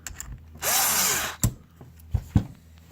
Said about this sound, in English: we're going to go ahead and tighten these back screws down to hold it in place